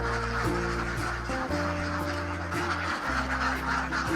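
A crowd of farm ducks, a mix of Muscovy, water ducks and other breeds numbering over a thousand, quacks and honks continuously at close range, calls overlapping in a busy, unbroken chorus.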